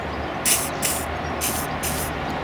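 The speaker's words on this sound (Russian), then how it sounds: "просто везде пшикнем ВДшкой или ее аналогом" Several short hissing bursts come from an aerosol can of WD-40 penetrating lubricant sprayed onto old bolts, about four quick puffs over steady low background noise.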